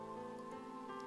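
Rain patters steadily in a video game, a soft, constant wash of falling drops under a low sustained musical tone, with no talking.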